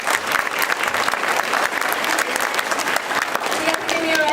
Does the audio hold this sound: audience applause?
yes